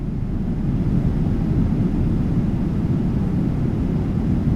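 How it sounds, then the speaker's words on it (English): Steady low roar of a PMDG 777-200ER cockpit during descent in a flight simulator, a continuous broadband engine and airflow rumble with no breaks. "Tell me that doesn't sound like we're legitimately on a 7-3 descending or 777 descending right now."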